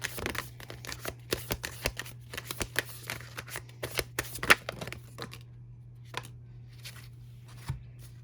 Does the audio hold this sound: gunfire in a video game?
no